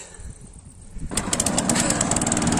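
A small petrol engine machine, started after its carburettor was primed, catches about a second in and runs on with a loud, rapid, buzzing, pulsing putter close by.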